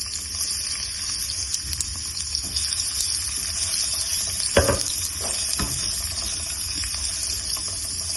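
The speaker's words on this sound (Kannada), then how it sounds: "ಈರುಳ್ಳಿನ ಚೆನ್ನಾಗಿ ಒಗ್ಗರಣೆ ಮಾಡೋಣ." Onion sizzles and crackles steadily in hot ghee in a pan while cooking a red chilli chicken, with a couple of louder stirring scrapes midway.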